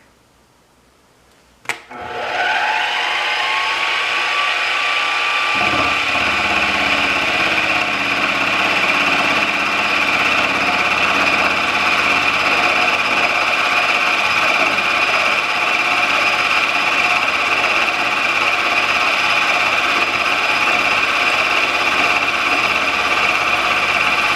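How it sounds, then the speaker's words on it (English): A fly cutter machines a lathe quick-change tool holder: after a brief quiet start and a sharp click, the machine spins up into a steady, loud whirring hum with a faint cutting chatter that holds to the end. "we're going to run the fly cutter through and just see what that looks like"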